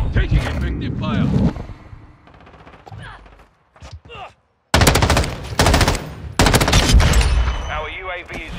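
Close bursts of automatic rifle fire in Call of Duty: Modern Warfare II break out in rapid strings and then cut off, with a voice talking during the quieter gaps.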